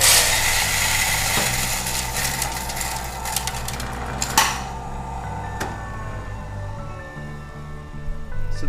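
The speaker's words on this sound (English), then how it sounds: "So you're going to go ahead and grind this coffee." Coffee grinder grinding beans to a medium-coarse setting for French press: a loud, gritty whir at the start that thins into a steady mechanical hum with a few knocks and clatters, and no talking.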